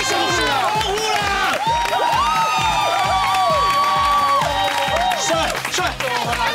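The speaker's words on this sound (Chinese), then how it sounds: "欢呼啦！" A studio crowd on a TV variety show cheers and shouts loudly and continuously, with excited voices rising over rhythmic background music.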